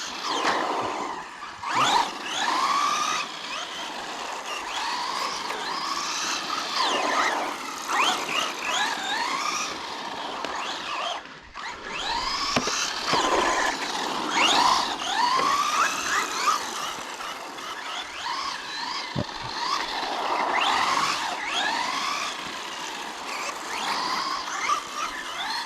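A Funtek MTX radio-controlled car with a 4600kv brushless motor drives on test runs, its high whining motor rising and falling in repeated passes and revs, fairly close and steady throughout.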